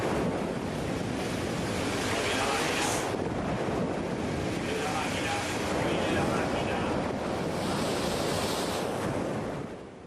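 Heavy ocean waves of about 4.5 metres and 45-knot winds batter a ship at sea, a continuous roaring wash of surf and buffeting wind noise with surges around the third and sixth seconds.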